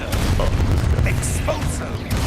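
A Confringo fire-blast spell erupts in a Harry Potter video game, a dense booming burst with crackling pops over a steady low rumble that fills the short stretch, with a spoken voice layered on top.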